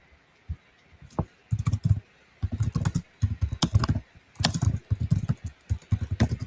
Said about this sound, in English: With my loud typing, I've been told.